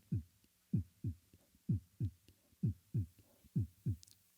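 A beatboxer imitates a human heartbeat with his voice: a steady run of low, thumping lub-dub pulses, about ten beats, close and clear with no other sounds.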